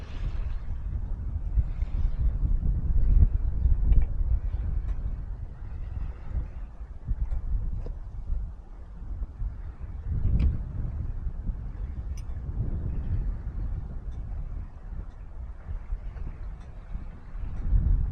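A sailboat runs downwind at about five knots in gusty wind on Loch Ness, heard as a steady rumbling roar of wind buffeting the microphone and rushing water, swelling and easing with the gusts throughout, with no talking.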